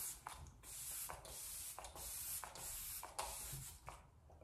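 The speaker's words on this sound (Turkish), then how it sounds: "Bu da yüz nemlendiricisi." A facial moisturizer mist sprays out of a bottle in several short, soft hissing bursts, each lasting under a second, repeated at a steady rhythm and heard close up.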